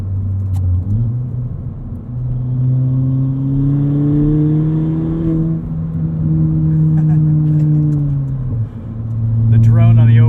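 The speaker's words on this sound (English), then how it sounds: "The drone on the overrun is pretty bad." Engine drone from a straight-piped 2017 Ford Fiesta ST on overrun, heard from inside the cabin as a steady, loud low hum that sags and swells while the car coasts off throttle, with talk over it.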